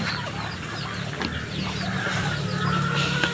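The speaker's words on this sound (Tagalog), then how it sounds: "Ito po yung tandang." A rooster on a rice-farming homestead clucking in short, scattered bursts over steady outdoor background noise, fairly close.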